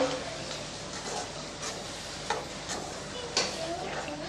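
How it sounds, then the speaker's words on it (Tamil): A utensil stirs and scrapes through a thick okra curry in a pan, with a soft sizzle underneath and a few sharper clinks. "இப்போ இதை நல்லா கலந்து விட்டுக்கிட்டே இருக்கலாம்."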